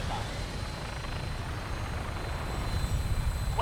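A Vertibird aircraft in the Fallout 4 video game revs up for takeoff, giving a steady, loud rotor and engine drone with low rumble that builds slightly toward the end.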